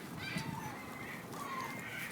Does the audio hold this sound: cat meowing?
no